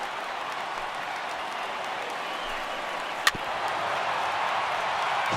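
Stadium crowd of over 39,000 on their feet in the baseball video game MLB The Show 18, a steady broad roar with one sharp crack partway through, no talk over it.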